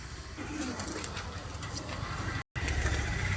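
Pet pigeons coo softly somewhere in a noisy setting, their low murmurs faint under steady broadband background noise with a brief dropout near the end, and no clear talk.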